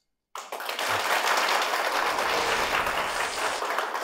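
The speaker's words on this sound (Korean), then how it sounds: "박수로 청해 듣겠습니다." Audience applause at a Christian television talk concert. It bursts in abruptly and holds as a steady, dense wash of clapping from many hands until the end.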